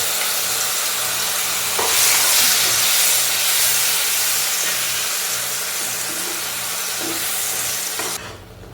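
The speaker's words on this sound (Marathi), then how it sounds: "तूप गरम झाल्यानंतर यामध्ये आता आपण जी मॅश केलेली केळी आहे ती यामध्ये टाकून परतून घेणार आहोत" Mashed ripe banana sautéing in hot ghee in a pan, a steady close sizzle with a soft stirring scrape running throughout, easing off slightly near the end.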